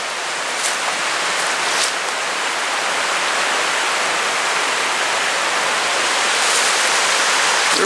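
The Cranberry River in West Virginia flows in a steady, broad wash of rushing water, loud and unbroken throughout, with no voices over it.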